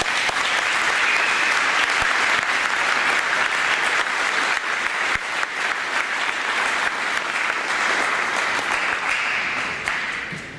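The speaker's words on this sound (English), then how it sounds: "recognize him with a round of applause for all that he does" Loud, steady applause from an audience at the 5th Annual Jimmy Sayegh Game event, sustained for about ten seconds with dense clapping and no talking over it.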